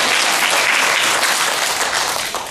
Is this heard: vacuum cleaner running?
no